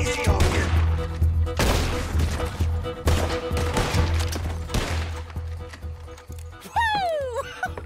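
Gatling gun fire in Red Dead Redemption 2, rapid bursts of heavy shots in several volleys with horse hooves and game sounds mixed in, ending in a rising whistling tone.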